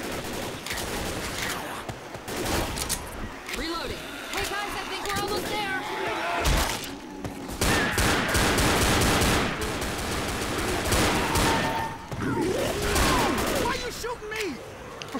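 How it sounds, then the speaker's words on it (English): Dense, rapid gunfire in the zombie shooter game Left 4 Dead, with continuous bursts and overlapping shots throughout, loud and close, mixed with game noise and players talking over it. "Shooting a zombie!"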